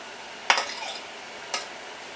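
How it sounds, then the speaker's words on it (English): Sharp knife poking spinach leaves in a canning jar, two quick soft metallic taps about a second apart, close and faint against quiet background. "I like to take a sharp knife and just poke the spinach"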